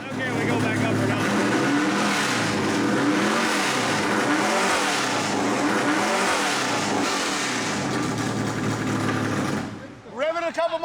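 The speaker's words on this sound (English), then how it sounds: "Rev it a couple more times" A race car engine revs hard in the pit for about nine seconds, loud and close with rising and falling pitch sweeps, then cuts off, followed by a brief short blip; talk runs underneath.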